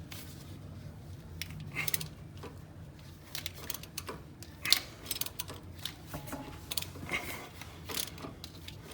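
A ratchet wrench clicks in quick irregular bursts while removing steering box bolts on a Jeep JK Rubicon, close and fairly quiet, with metallic taps and clinks between strokes.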